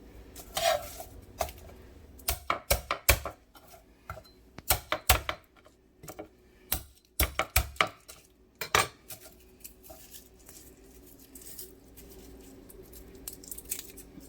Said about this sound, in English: I just want the garlic smashed a little bit